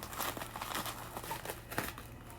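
Plastic cling film crumpled and crinkled by hand while making a squishy, a dense, continuous crackling rustle that stays close and fairly loud throughout, with a few sharper crunches and no voices.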